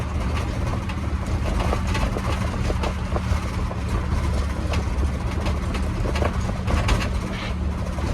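An engine revs hard after a carburettor strip and rebuild. It gives a steady, close, loud running drone with a continuous low hum throughout and no talking.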